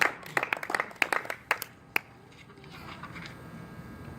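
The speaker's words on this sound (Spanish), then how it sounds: "Dale las palmas al Señor" A church congregation claps in scattered, uneven bursts during a Spanish-language service, sharp individual hand claps for about two seconds that thin out and stop, leaving a quiet room.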